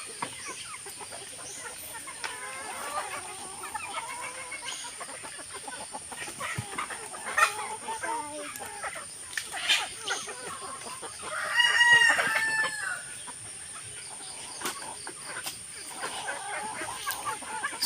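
Chickens cluck in a busy chorus while a rooster crows once in the middle, the birds sounding close and steady throughout.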